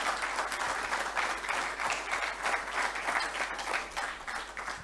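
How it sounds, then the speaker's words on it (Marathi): Applause from an audience at a society's anniversary function, a sustained burst of many hands clapping in a hall, loud and steady throughout. "त्यांच्यासाठी एक विशेष टाळ्या होऊ द्या."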